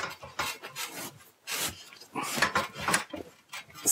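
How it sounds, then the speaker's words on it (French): An eco insulation panel being wedged into place under a roof, giving soft scraping and rubbing strokes with light knocks in an irregular rhythm, close and fairly quiet. "Alors, on va caler le panneau"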